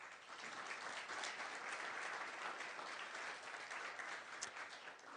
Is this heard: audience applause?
yes